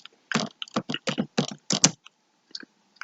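Keys clatter on a computer keyboard as text is entered for an HTML checkbox, a quick burst of close, crisp clicks followed by a few sparse, fainter taps.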